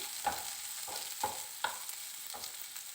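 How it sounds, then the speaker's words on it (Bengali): Bitter gourd frying with salt in a pan, stirred with a spatula: a soft continuous sizzle with about five distinct scraping strokes at a steady, unhurried pace. "লবণ দিয়ে উচ্ছের সঙ্গে বেশ ভালো করে ভেজে নিচ্ছি"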